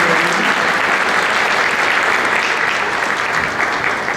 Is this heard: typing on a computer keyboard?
no